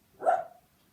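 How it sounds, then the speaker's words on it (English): A dog gives a single short, close bark, loud and sharp, with quiet before and after. "So my dog will do that."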